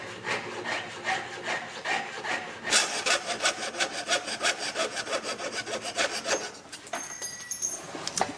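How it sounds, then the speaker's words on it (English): A jeweler's saw cutting through metal by hand, making a fast, steady rhythmic rasping stroke that picks up after a quieter start, close and clear with no voices. "You always know if you're using your jeweler saw appropriately is by the sound."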